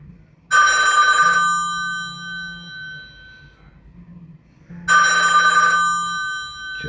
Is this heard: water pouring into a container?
no